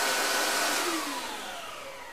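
A PRO 12 upright vacuum cleaner runs with a loud, steady motor roar and a high whine that slowly sinks in pitch, close and continuous with no talking.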